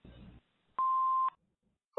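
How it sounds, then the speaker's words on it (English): An answering machine emits a single clear electronic beep lasting about half a second, preceded by a brief low rumble and followed by silence, with a short faint noise at the very end. "Please leave your name and phone number after the beep."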